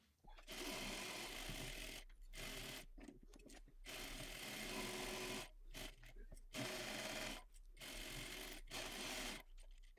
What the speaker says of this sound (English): we're going to go to our sewing machine using a half inch seam allowance